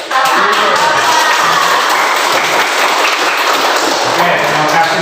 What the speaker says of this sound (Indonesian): ini tepuk tangan untuk Fatir atau Pak Guru?